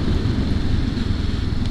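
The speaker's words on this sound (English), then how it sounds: "Engine seems perky enough." Honda CL500 motorcycle, a 500cc twin, riding along a road; a steady, dense low rumble of engine mixed with heavy wind buffeting continues without a break.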